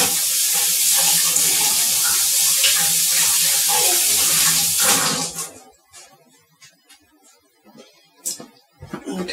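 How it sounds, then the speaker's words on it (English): A tap runs strongly while hands are washed at a kitchen sink, a loud steady rush of water for about five seconds before it shuts off, followed by scattered soft clicks and knocks. "Let me wash my hands real quick."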